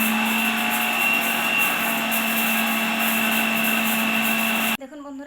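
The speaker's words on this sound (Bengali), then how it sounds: "আর এই যে লঙ্কাগুলো আমি এখন গুঁড়ো করে নেব।" Dried red chillies, stems removed, are ground into powder for a sweet mango pickle. An electric grinder gives a loud, steady whirring drone that cuts off abruptly near the end.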